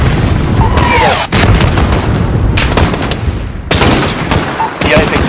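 Loud, sustained gunfire and heavy booming shots fill the scene during an embassy assault in Call of Duty Modern Warfare, broken by a couple of brief lulls, with voices talking under the battle noise.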